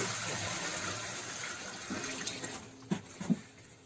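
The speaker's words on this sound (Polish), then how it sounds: "tutaj jest woda, najlepiej deszczowa albo ze studni, do kotła Lejemy" Rainwater poured into a cauldron for brewing mead makes a steady watery gush, with a few louder splashes near the end.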